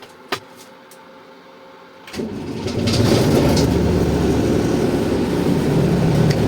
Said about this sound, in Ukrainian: і заводимо комбайн. І дивимося, що у нас з цього вийде. Даємо газ.